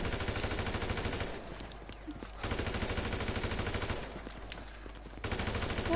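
Mounted guns fire in a PS4 video game, dense rapid-fire bursts that roar continuously and drop away twice for brief lulls before resuming loudly.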